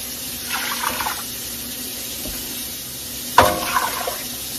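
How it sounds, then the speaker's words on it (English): Water poured from a vessel into a cooking pot holding fresh elderberries, two short splashing pours close by, the second one louder, with a quiet room in between. "To this, I'm going to add water."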